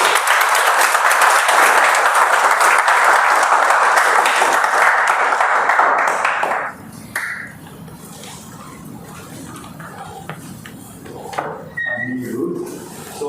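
Loud, sustained audience applause at a Toastmasters club milestone meeting fills the first six and a half seconds, then cuts off abruptly, leaving quiet room sound with a few faint scattered noises.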